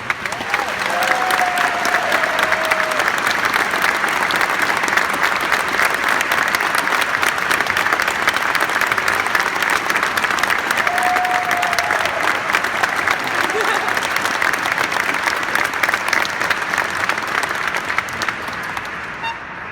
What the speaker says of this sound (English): So please join me, we give them a round of applause